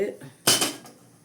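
A metal kadai pan set down on a kitchen stove, a single sharp clattering clank with a short ringing tail, close and moderately loud.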